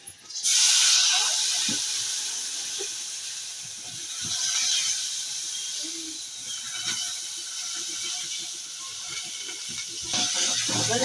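Onion dropped into a hot pan with dried fenugreek leaves, a loud steady hiss and crackle starting almost at once and holding through, with faint scraping and clinks underneath and a fresh surge near the end.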